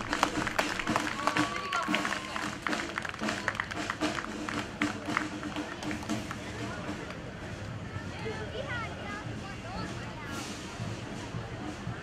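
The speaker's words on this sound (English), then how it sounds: "How about another round of applause for the Cantanning Firemen Band?" Outdoor crowd applause and cheering at a community drum and bugle competition for the Cantanning Firemen Band, a sustained broad clatter of clapping from a large audience with scattered voices mixed in.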